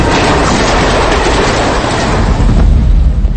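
A train rumbles loudly through a scene from the Telugu movie Golimaar, a dense, continuous roar with heavy low-end rumble and broad hiss that holds steady for a few seconds, with no talking.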